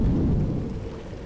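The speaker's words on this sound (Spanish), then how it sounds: "En la lejanía se escuchó un trueno retumbar." Distant thunder rolls as a deep, heavy rumble that slowly fades, used as a storm effect in a pirate tale, with a steady wash of rain beneath and no voices.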